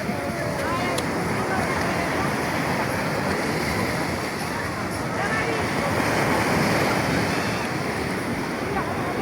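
Sea waves roar steadily onto Sugandha Beach at Cox's Bazar at night, a dense, loud and continuous wash of surf with wind noise on the microphone and no pause throughout.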